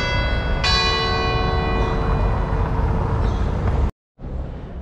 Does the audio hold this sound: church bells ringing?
yes